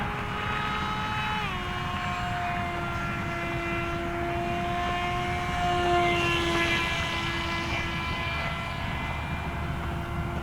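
A Flite Test STEM Jet Charlie model plane flies steadily, its high electric motor whine holding a continuous drone that shifts pitch as it turns and swells briefly when it passes closer, with no voices.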